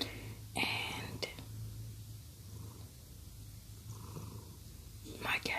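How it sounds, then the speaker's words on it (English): A domestic cat purrs close by, a steady low rumble running through the whole stretch, with soft breathy whisper-like sounds and a few brief rustles on top. "A disclaimer for this video is all the cat sounds."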